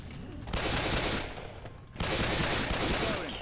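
Rapid bursts of gunfire from the video game Left 4 Dead 2 come in two loud, dense volleys separated by a short dip, with no talk heard.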